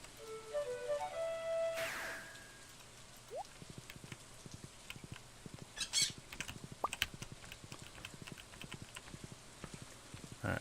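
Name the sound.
rain falling in the video game Stardew Valley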